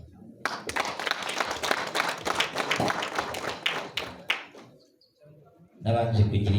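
Guests at a Rwandan wedding break into a burst of dense clapping for about four seconds, fading into quiet before a voice starts speaking.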